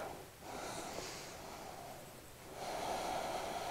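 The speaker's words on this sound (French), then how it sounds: "Inspire, expire, je me recentre." Deep breathing during a yoga exhale: a soft, close breath that swells into a long, airy exhale, quiet and unhurried with no talking.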